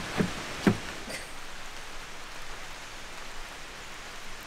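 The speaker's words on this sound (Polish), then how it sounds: "Trochę pada, co?" Light rain falls on a mountain trail to Kasprowy Wierch in the Tatras, a quiet, steady patter. Two short knocks sound near the start, and no one speaks.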